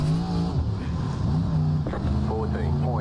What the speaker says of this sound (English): I thought that was another race car for some reason, but that was a truck.